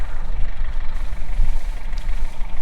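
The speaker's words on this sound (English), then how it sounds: "So I got our 5713 loader tractor." 5713 loader tractor engine idling during hay baling, a steady low rumbling drone with a slight rhythmic throb, close and loud.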